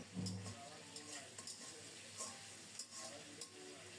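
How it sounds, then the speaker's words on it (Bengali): A cleaned rohu fish head frying in hot oil in a pan, with a soft continuous sizzle broken by scrapes and stirring clinks of a spatula, fairly quiet and close. "মাছের মাথাটা পরিষ্কার করে ধুয়ে ভাজতে বসিয়ে দিয়েছি"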